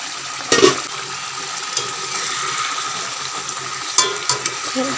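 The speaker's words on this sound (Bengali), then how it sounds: "ঢেকে ঝোলটা একটু ফুটিয়ে নেব।" Katla fish curry gravy bubbling in a pan, a steady close simmering hiss with a couple of louder clattering knocks near the start and again toward the end.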